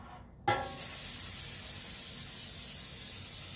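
Olive oil cooking spray hisses in one steady, continuous burst into a baking pan, close and even from start to finish.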